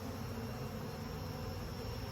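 Honey bees, workers and larger drones, drone continuously at an opened hive during an inspection, a steady close buzzing hum with no voices.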